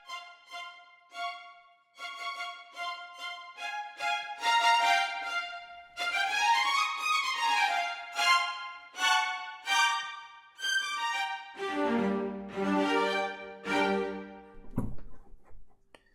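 Short, detached sampled string notes played in quick rhythmic bursts, later joined by low pizzicato-like plucks, crisp and closely recorded.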